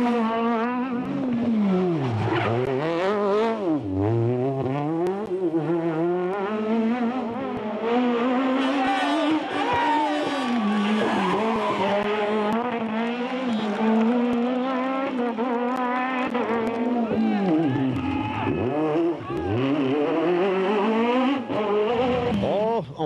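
Rally car engine, driven by a veteran rally driver, revs hard and slides through handbrake turns for spectators, a loud, continuous rising and falling engine note with surging bursts filling the whole stretch.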